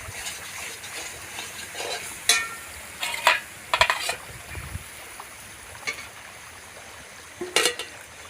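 Shrimp are added to hot spiced oil for a prawn malai curry in a village kitchen. A soft sizzle runs underneath sharp, irregular scraping knocks as the pan is stirred.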